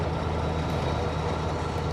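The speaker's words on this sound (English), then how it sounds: "She plays a sweet tune, this old truck" An old V8 show truck engine runs steadily, a deep continuous rumble with a low throbbing idle, close and loud with no voices.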